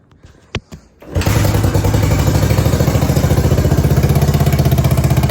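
A 50-year-old abandoned motorcycle engine firing up after a few thumps, then running loud and close with a rapid, even, throbbing beat that continues steadily.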